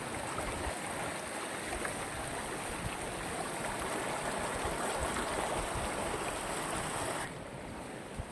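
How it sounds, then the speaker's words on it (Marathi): Water rushing out of the Lotus dam spillway in a forest area of the Yawal forest division, a steady, dense roar of flowing water that runs unbroken throughout and eases slightly near the end. "लोटस डॅमच्या सांडव्यापासून बाहेर येणारं हे पाणी"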